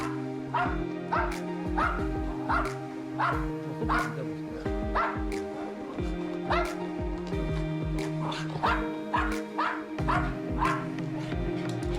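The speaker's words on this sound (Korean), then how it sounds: "둥이는 항상 저렇게 빙글빙글 돌면서 짖었어요" A small dog barks in repeated sharp yips with whimpers between them while its owner gets ready to go out, putting on a coat and picking up a bag. The barking runs steadily and loud throughout, over a low continuous background.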